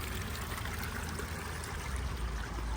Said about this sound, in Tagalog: may tubig pang umaagos